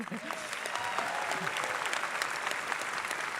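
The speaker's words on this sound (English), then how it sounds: "Another round of applause for him." Dense, continuous applause from a graduation hooding ceremony audience thanking a speaker, a steady wash of many hands with a few voices and crowd murmur mixed in.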